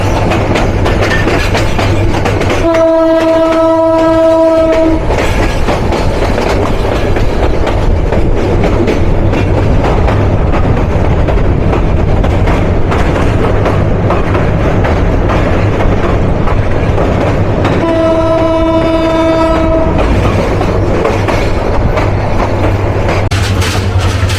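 Teesta Express passing through, a sustained loud roar of wheels on rails with two long harmonic horn blasts, one early and one later, no talk.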